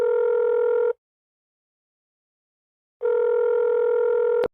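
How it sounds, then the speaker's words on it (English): A ringing phone: two loud, steady, buzzy tone bursts about a second long, separated by a two-second silence, close and clean. "Your phone rings."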